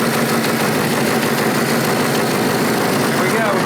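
A classic Honda motorcycle engine runs at a steady idle right after starting, a continuous close low rumble with no voices over it.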